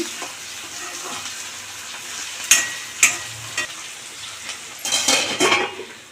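Curry frying in a pan for Andhra-style pappucharu and broad bean fry, a steady sizzle with a few sharp spoon-against-pan scrapes and clinks as it is stirred, with a busier burst near the end.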